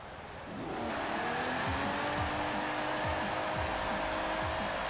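A cheap drift-build car in Forza Horizon 4 revs up and slides, a loud engine drone with repeated gear-like pulses and squealing tires, steady and close, with no talk.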